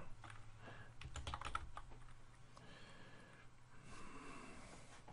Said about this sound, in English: Let's see if my typing catches up here.